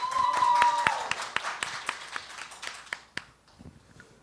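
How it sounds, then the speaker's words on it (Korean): A student presenter is welcomed at a university festival by scattered audience claps. They start over a brief tonal hum, continue as distinct, irregular claps, and thin out to a few isolated ones before fading to near silence. "뜨거운 박수로 맞이해 주시길 바랍니다."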